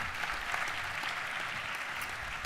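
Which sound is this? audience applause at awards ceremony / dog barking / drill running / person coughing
audience applause at awards ceremony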